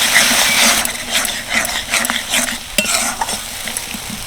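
Spice paste with yogurt, for a cabbage curry, stir-fried in a pan: a steady close sizzle with scraping spatula strokes throughout, no voices.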